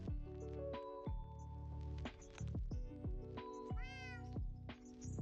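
Repeated Minecraft cat meows, several clear, close mewing calls in a row with short gaps, some rising and falling in pitch, loud over a steady background with no talking.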